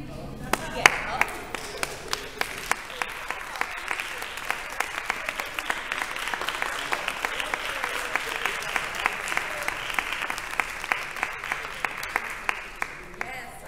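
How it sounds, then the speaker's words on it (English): An audience on its feet applauds itself in a standing ovation at a motivational talk, with steady dense clapping and sharp individual claps throughout, fairly loud and continuous. "Give yourself a standing ovation."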